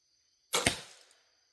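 An arrow shot from a bow more than 30 years old hits the target once with a sharp, close thwack, and a second quick impact follows, then a short decaying rattle against a quiet background.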